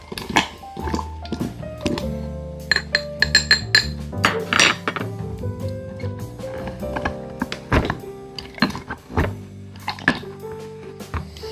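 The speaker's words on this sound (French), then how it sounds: "Petit coup de cuillère pour bien tout mélanger." A spoon clinks and rattles against ice in a glass while a Sauternes cocktail is stirred, in a run of bright, irregular taps with ringing tones, close by and with no talk.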